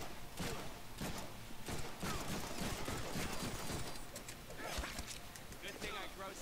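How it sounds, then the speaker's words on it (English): Rapid gunfire from the Deadpool video game on PS4 rattles in dense bursts across several seconds, mixed with thuds and game effects while someone talks over it. "I am gonna waste all my bullets."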